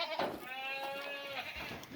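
Black goats bleat on a goat farm, one long wavering bleat standing out close by over a busy background of other animals and farmyard noise.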